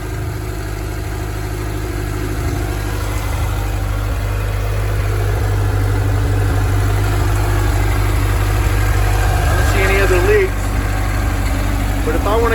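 A 1985 Dixie Bandit boat engine runs steadily with a low, continuous rumble, swelling slightly in a rev near the end, close and loud throughout.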